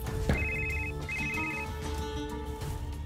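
A phone ringtone chirps in two quick electronic bursts over a steady background hum and room noise.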